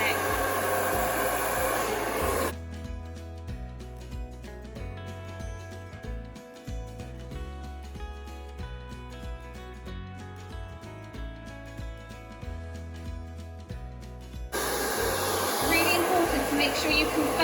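A hair dryer blows frizzy hair smooth over a round brush, a loud steady close-up whoosh that drops away for a stretch while background music plays on, then comes back at full strength.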